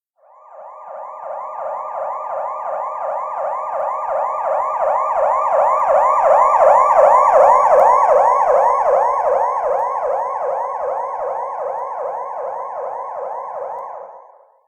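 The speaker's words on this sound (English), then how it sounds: "When a police car drives past you with its siren on, the pitch of the siren seems to decrease." A police car siren wails in a steady repeating up-and-down cycle, swelling louder as it approaches, peaking midway, then fading as it passes, with the pitch sliding lower after it goes by.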